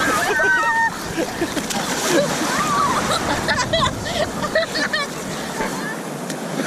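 Rough ocean waves slosh and splash at a beach amid steady water noise, while children shout and adults talk and laugh close by throughout.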